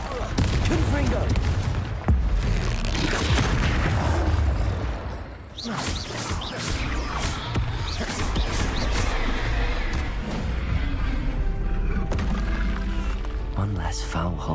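Spell combat in Hogwarts Legacy, with the Confringo fire spell blasting a brute: repeated booming bursts and whooshes layered over dense game effects, with voices talking throughout.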